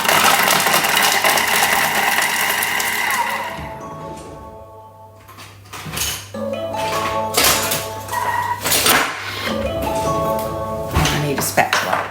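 A Thermomix food processor chops bacon and cranberry jam ingredients with a loud whirring buzz that starts abruptly and fades after a few seconds, followed by clanks and rattles of the bowl under a voice talking.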